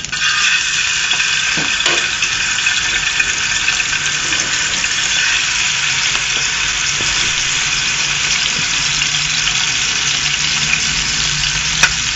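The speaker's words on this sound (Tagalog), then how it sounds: "Then we will cook the fish 5 to 10 minutes. Heat the pan and add the olive oil." Fish frying in olive oil in a hot pan, a steady dense sizzle that holds evenly throughout, loud and close, with faint occasional clinks and no talking.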